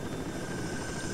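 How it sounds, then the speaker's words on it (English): Helicopters in the STALKER video game, heard out in the Yantar area as a steady, dense rotor and engine drone that fills the moment without a break. "do you hear something different? Helicopters?"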